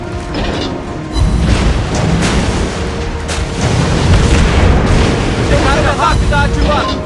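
Torpedo hits on an enemy ship in World of Warships, heavy booming explosions rolling over continuous loud battle and engine noise, with a game voice calling out over the blasts.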